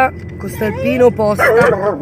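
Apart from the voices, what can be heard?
dog barking on seeing other dogs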